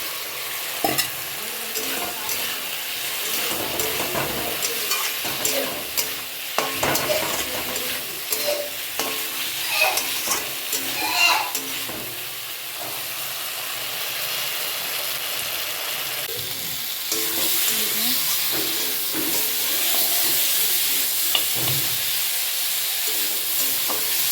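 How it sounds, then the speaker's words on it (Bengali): Boiled potatoes sizzle in a frying pan while being stirred, a continuous hiss of frying broken by scraping and clattering spatula strokes, close and with no talking. "সেদ্ধ করা আলুগুলো দিয়ে দেবো, একটু মেখে খেয়ে দেবো।"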